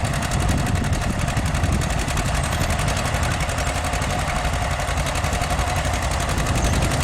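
A 1948 John Deere B tractor pulls a two-bottom rope-trip plow through rough ground, its engine running as a steady, loud, continuous chug for the whole stretch, with no voices.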